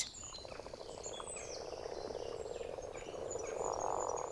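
Male frogs or toads croaking together in a steady breeding-pool chorus, a dense continuous layer of calls with faint bird chirps above, heard at a moderate distance.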